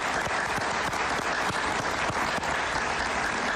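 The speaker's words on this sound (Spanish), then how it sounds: "Un aplauso para ella, por favor." Studio audience applause greeting Cuban writer Yoani Sánchez on a talk show, a full, continuous roar of clapping hands with crisp individual claps audible, loud and close, unbroken by speech.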